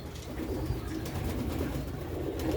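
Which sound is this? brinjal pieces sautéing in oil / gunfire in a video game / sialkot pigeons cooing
sialkot pigeons cooing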